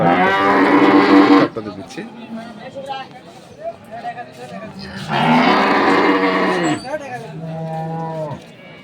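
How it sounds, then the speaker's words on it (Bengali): Dairy cows at a rural cattle market in Dinajpur, Bangladesh, mooing loudly and close by in two long, drawn-out calls. Market bustle and voices fill the gap between the calls. "আমরা দেখছিলাম আজকে দিনাজপুর জেলার আমবাড়ি হাটে যে দুধের গাবে গরুগুলো"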